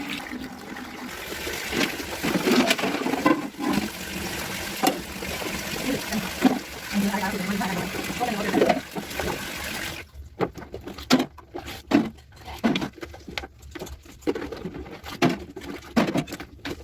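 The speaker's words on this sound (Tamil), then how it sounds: "நல்லா சுடு தண்ணியில் போட்டு அதில் அமுக்கி எடுத்துட்டு அப்புறம் கழுவுனா நல்லா எண்ணெய் பீஸ்க்கெல்லாம் போயிருங்க" Oily kitchen utensils are washed in hot water, with steady splashing and pattering at first, then sparser sloshes and clinks near the sink, and nobody speaking.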